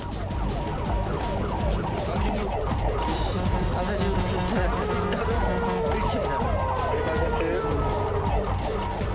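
Several fire truck sirens wail and overlap continuously, loud and close, with traffic rumble beneath and a voice briefly audible in the mix.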